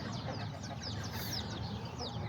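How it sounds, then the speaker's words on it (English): Kikiriki chickens in a cage clucking and chattering continuously over a dense, steady background of farmyard noise, with scattered overlapping calls. "these are all the little chickens"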